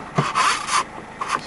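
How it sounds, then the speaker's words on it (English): Interior sunroof blinds sliding across inside a Land Rover Freelander TD4, a few short rubbing, scraping strokes close by, with a soft swish between bursts and no talking. "The blinds just pull across like that."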